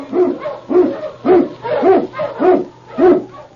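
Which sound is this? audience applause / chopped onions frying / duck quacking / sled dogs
sled dogs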